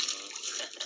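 A fish leaps and splashes in shallow seawater while someone fishes nearby, a brief, faint wet splash and rush of water.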